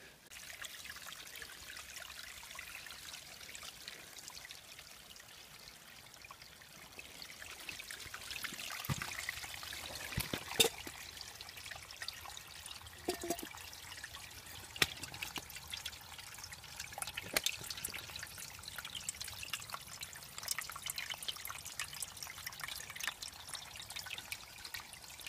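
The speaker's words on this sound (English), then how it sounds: "Oh, this little stream here." A small stream trickles outdoors in winter, a faint, steady flow of water with occasional soft drips and splashes, heard alone at low level.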